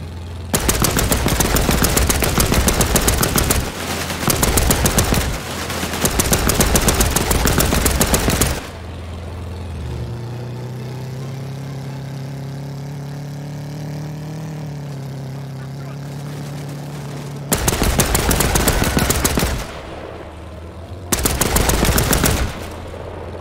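Long bursts of rapid machine gun fire in a World War II-era video game rattle loudly, broken by a stretch of droning motorcycle engine noise before the firing returns in shorter bursts.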